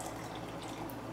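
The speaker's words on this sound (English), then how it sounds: "And pour my beautiful IPA" IPA beer poured into a glass beside fish and chips, a steady close rushing pour of liquid with a soft fizzing hiss throughout, no talking.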